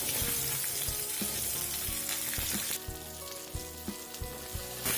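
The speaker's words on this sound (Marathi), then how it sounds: "आता आपण तेलामध्ये पहिल्यांदा कांदा घालून घेऊया।" Chopped onion sizzles as it fries in hot oil for dum aloo, a steady loud close crackle with occasional knocks and stirring sounds, without any talk.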